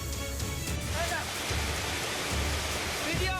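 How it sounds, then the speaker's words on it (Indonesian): Hailstorm with heavy rain and strong wind in Majalengka, a dense loud wash of pelting rain and hail with faint voices calling out beneath it. "Hujan es yang disertai hujan deras dan angin kencang membuat warga sekitar histeris"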